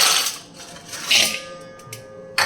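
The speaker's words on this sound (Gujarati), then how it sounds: "તો થોડોક નાખી દઈએ બરફ." Ice cubes clatter into a large pot of fennel sherbet made with sugar water and cold water, giving a few bright clinks and rattles close by, with a louder knock near the end.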